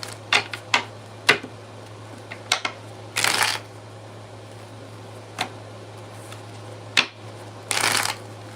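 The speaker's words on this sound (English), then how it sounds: "Y'all see me shuffle these cards" Tarot cards are shuffled in quick riffling bursts, with sharp snaps and brief flurries separated by short pauses, close to the microphone.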